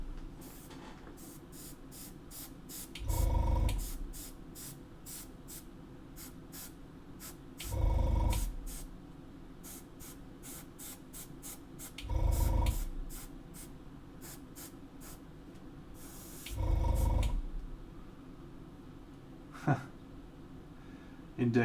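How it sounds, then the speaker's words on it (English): An airbrush spraying paint in four short, evenly spaced bursts of hissing air, each lasting about a second, set against a quiet room with faint background hum. "I am doing some airbrushing right now"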